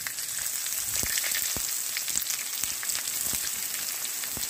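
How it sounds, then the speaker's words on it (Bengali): Onions frying in hot oil with raw peanuts for spicy suji upma, a steady crackling sizzle with sharp spits and pops throughout, close and fairly loud, with no talking. "আমি আরও 2-3 মিনিট নাড়াচাড়া করে ভেজে নেব।"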